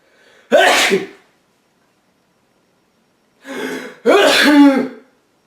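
A single sharp sneeze, then after a pause a quick inhale followed by a second loud sneeze, both close and abrupt.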